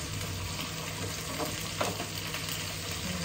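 Two chopped tomatoes dropped into a sizzling pan, a steady dense frying hiss with a brief louder splash of sizzle as they land, close by.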